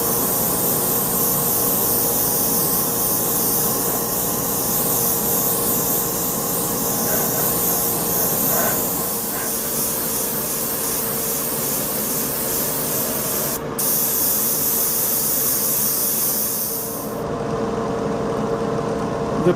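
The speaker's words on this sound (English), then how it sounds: "now I'm going to use my airbrush and paint the entire model with the main color" An airbrush sprays the main colour coat onto a Tamiya Lunch Box RC model car body, giving a continuous close hiss that holds steady for most of the stretch before cutting off near the end.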